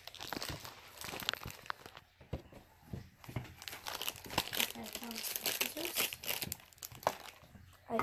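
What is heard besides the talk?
opening crinkly plastic packaging of mystery collectible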